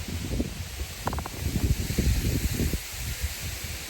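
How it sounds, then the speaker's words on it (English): Wind blowing by a river during a fishing session, a steady broadband rush buffeting the microphone, with soft rustling and small handling knocks close by. "The wind has got up a bit more."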